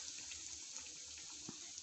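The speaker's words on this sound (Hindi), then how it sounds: "और इस तरह से हम इसको फ्राई करेंगे, मीडियम फ्लेम पे बनाएंगे" Chicken patties fry in oil over a medium flame with a steady, faint hiss and crackle, constant sizzling and a few small pops.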